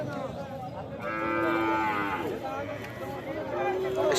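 A native desi cow lows at a busy cattle market in two drawn-out moos, close and loud, with crowd noise and voices in the background.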